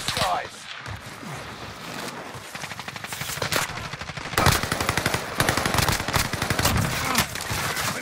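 Automatic gunfire in Call of Duty: Warzone Resurgence, long rapid bursts of machine-gun fire that grow louder and denser, rattling almost continuously, with a voice speaking faintly underneath.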